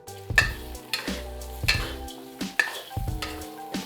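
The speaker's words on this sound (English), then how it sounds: "Add garlic, scallion white, stir well." Garlic and scallion whites are stir-fried in a wok with dried chilies for Szechuan spicy chicken, giving a close, steady sizzle broken by several rhythmic scraping clatters of the spatula against the wok.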